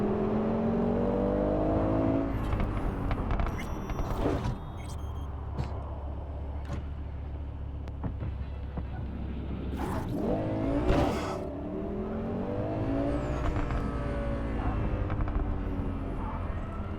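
A car drives in first person through Cyberpunk 2077, its engine droning steadily with rising and falling revs, occasional whooshes and passing traffic mixed in.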